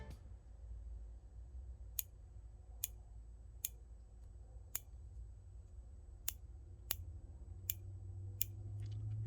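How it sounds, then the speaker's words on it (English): Dial on a Trijicon ACOG TA11J-G scope being turned, giving about ten sharp, crisp clicks spaced irregularly over a quiet background. "Now let's look at the dial. Here's the dial, very solid, as you can hear right now."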